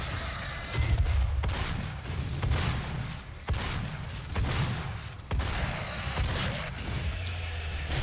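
Rockets and heavy weapons fire in Doom, with repeated booming blasts and rumbling explosions in dense, loud bursts throughout.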